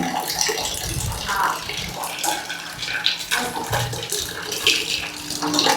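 Running water pours steadily with splashing, like a container being filled, while voices talk nearby throughout.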